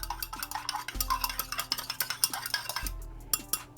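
A silk amino acid mixture being stirred in a container, with soft repeated scraping and swishing strokes in a steady rhythm, close and fairly quiet, with no talk.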